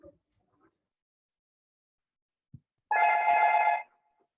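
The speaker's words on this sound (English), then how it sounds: "I'm sorry about the phone noise." A phone gives one short, loud buzzing ring of about a second that stands alone in an otherwise quiet room, preceded by a few faint knocks.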